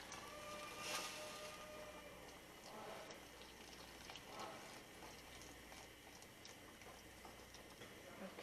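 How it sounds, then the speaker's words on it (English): Cornstarch and water slowly poured into turkey gravy at a rolling boil, a soft steady liquid trickle over bubbling simmer noise, close and fairly quiet, with a few faint ticks. "I'm just going to slowly add my cornstarch water, and it's going to instantly thicken up."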